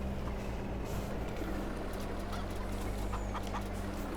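Chickens clucking at a coop in the video game Farming Simulator 22, a steady layered flock sound under a constant low machinery hum.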